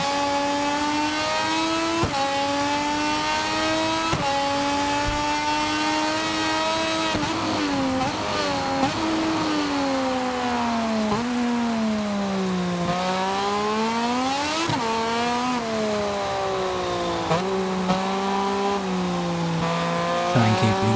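Moto2 motorcycle engine in MotoGP 24 racing at Silverstone, a continuous high-pitched whine that rises and falls as the throttle is feathered through corners, loud and alone with no talk.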